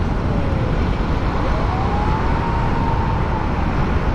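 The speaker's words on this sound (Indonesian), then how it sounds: "Ambulan eh." An ambulance siren wails in traffic, heard from a moving Honda RS150R motorcycle. Its single drawn-out tone rises and falls faintly beneath steady, loud wind and road roar.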